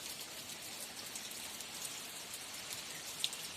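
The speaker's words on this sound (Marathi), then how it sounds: "पण आता पाऊस पडतोय तर" Rain falls on a field being planted with chrysanthemum seedlings: a faint, steady patter and hiss of drops that carries on evenly throughout, with one sharper drop tick near the end.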